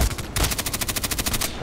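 Rapid automatic gunfire in the online shooter Contract Wars, a steady burst of roughly a dozen sharp shots in quick rhythm, loud and close, with no talk.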